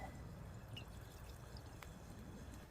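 Wine poured into a hot pan to deglaze it over a backcountry camp stove, a faint soft pour with light hissing and a few tiny drips, quiet and close in outdoor stillness.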